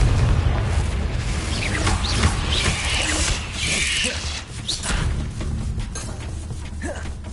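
Loud, continuous rumbling explosion blasts from the Confringo spell in Hogwarts Legacy, dense and booming throughout with mechanical clanks layered in.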